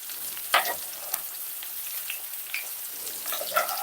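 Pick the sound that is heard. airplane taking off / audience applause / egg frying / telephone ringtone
egg frying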